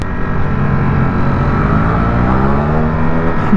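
A Ducati Streetfighter V4 SP2 motorcycle engine roars steadily and loudly close by while the bike is held up in a wheelie, its pitch holding high and even with no talk over it.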